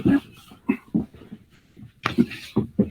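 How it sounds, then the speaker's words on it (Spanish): A small dog lets out a series of short yips and whimpering barks, close by, in quick irregular bursts. "No, era mi perrita, acá está."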